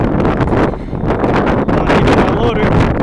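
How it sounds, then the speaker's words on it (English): Strong wind buffets the microphone outdoors at a farm during manure hauling with a 26-foot end dump, loud, continuous gusty roaring throughout. "Wind's blowing terrible today"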